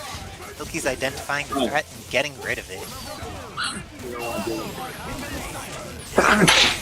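A sharp, loud sneeze bursts out at the end, after a stretch of energetic voice commentary over a fighting game stream.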